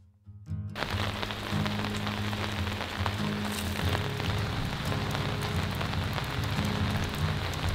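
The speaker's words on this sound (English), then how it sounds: "It is pouring rain, and we are taking refuge under the Easy Up shelter." Heavy rain pours onto an Easy Up canopy shelter at a winter campsite, a dense, loud patter that starts abruptly and then holds as a steady drumming roar with a low rumble beneath.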